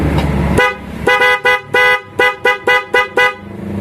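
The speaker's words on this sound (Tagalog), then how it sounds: "So check natin kung bubusina na." Car horn tested after rewiring its positive and negative wires, sounding a long blast followed by a string of eight short, evenly spaced honks, loud and close.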